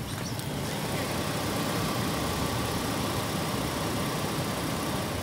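A police car's engine idles steadily at close range, a constant low rumble with a continuous hum that holds unchanged throughout, no voices over it.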